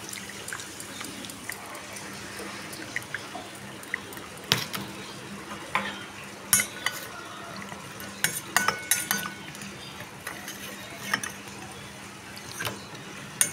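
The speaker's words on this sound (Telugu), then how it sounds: "ఇప్పుడు కొంచెం మజ్జిగలో వేసుకొని కలుపుకొని పెట్టుకోవాలండి" Dried fish being mixed by hand in buttermilk in a bowl, wet squelching and clinking taps in irregular bursts over a quiet background, close and fairly soft, with no talking.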